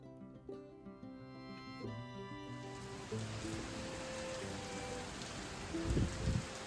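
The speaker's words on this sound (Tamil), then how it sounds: "இந்த மாதிரி மழை பெய்கிறப்ப ரொம்பவே நல்லா இருக்கிற மாதிரி இருக்குது" Heavy rain falls outdoors as a steady, dense hiss that sets in partway through, replacing softer tonal sounds and continuing evenly to the end with a few louder splashes.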